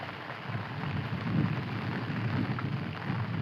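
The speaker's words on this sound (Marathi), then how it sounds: "पाऊस चालू झाला आता" Rain falls steadily over an open rice paddy field in a continuous, dense hiss, moderately quiet and even throughout, with no voices.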